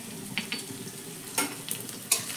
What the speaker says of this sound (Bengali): এবার সব কিছু ভালো করে একটু ভাজা ভাজা মতো করে নেব।